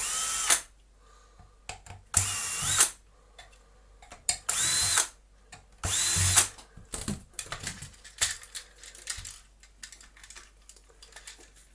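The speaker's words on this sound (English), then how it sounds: "Let's get these screws out." A cordless power screwdriver whirs in several short bursts, removing screws from the main housing of a Dyson V11 vacuum. Clicks and plastic handling noises fill the gaps between bursts, recorded close with no speech.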